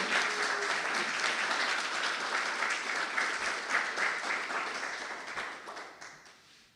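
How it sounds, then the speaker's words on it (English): An audience at an installation celebration applauds in welcome of Reverend Sunny, with thick, sustained clapping at full strength that gradually thins and fades away toward the end. "join me in welcoming her with a round of applause"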